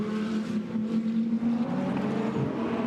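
GT2 race cars blast downhill at Spa: a steady, loud engine drone with a strong low hum and rising and falling revs, all blending into a continuous roar with no voices.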